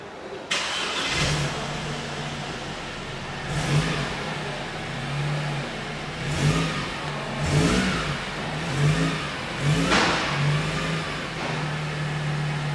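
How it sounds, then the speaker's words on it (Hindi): A 2007 Mercedes C180 engine runs near and steady, its exhaust note rising in several short revving bursts over the idle; no voices. "इसकी एग्जॉस्ट क्लिप आपको मैं चेक कराता हूँ।"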